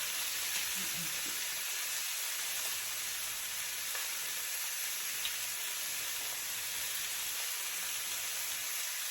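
Steak sizzling steadily in a hot pan, a continuous broadband hiss of searing meat with faint pops and crackles, close and even throughout with no talking.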